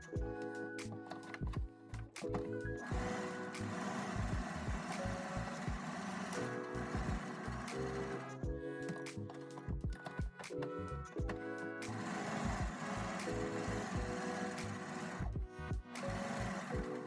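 A sewing machine stitches a row along the edge of a fabric pocket trimmed with decoration, its needle chattering in quick runs broken by short stops and restarts, close and fairly quiet.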